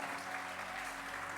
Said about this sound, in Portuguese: Se é para Jesus, pode aplaudir mesmo.